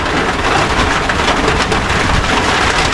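Rain falling steadily and heavily outdoors during an eel-trapping outing, a loud, dense, continuous hiss with no pauses or voices.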